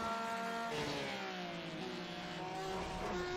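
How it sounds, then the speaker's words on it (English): A race car engine in the iRacing sim drones steadily, its pitch sliding down as it backs off approaching a corner, then holding a lower note; no talk. "if you listen to the engine"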